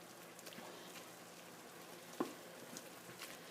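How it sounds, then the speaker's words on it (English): Turkey and cabbage frying in a pan on a stove turned up high, a steady soft sizzle with faint crackles and one brief sharp tick partway through, no talking. "we're going to let this fry all the way up"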